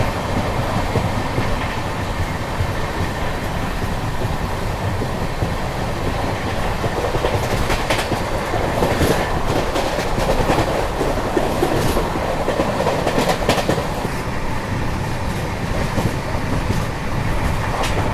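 The Sampark Kranti Express runs at speed near Bharatpur as it enters Rajasthan, its wheels clattering rhythmically in a loud, continuous rumble with sharper rail bangs in the middle stretch.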